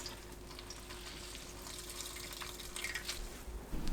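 Cold tap water running steadily over blanched bean sprouts in a sink, a soft continuous splashing and trickle, fairly quiet, with a slight swell toward the end.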